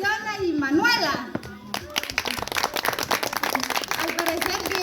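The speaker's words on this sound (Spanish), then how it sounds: "Un aplauso para Encarnación y Manuela." A festive crowd at a subscriber celebration giveaway in San Rafael Chichop, Joyabaj, claps for two honored women, with lively applause following a spoken announcement and children's voices mixed in.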